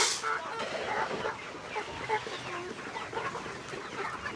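Farm chickens on a Cebu farm cluck steadily at feeding time, a busy overlapping chorus of close clucks and squawks with faint talk in the background.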